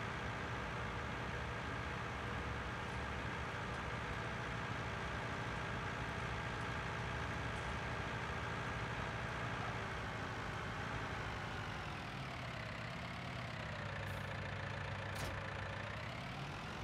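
A tractor engine idles steadily in Farming Simulator 19 with a continuous droning rumble. Its pitch dips briefly near the end, and there is no talking.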